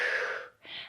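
During a Pilates abs workout, a close, audible inhale flows into a slightly softer exhale, one full breath cycle with a brief pause between.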